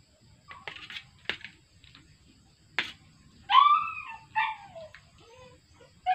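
Dogs yelp and whine in scattered bursts, some high and drawn out, against a quiet background with faint clicks.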